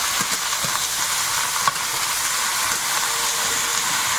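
Steady hiss and sizzle of Malabar spinach greens frying in a hot pan with lightly fried garlic and onion, with faint occasional clinks of stirring, continuous and close.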